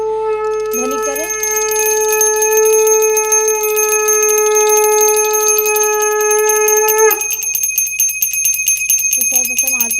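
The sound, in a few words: hand bell rung during evening aarti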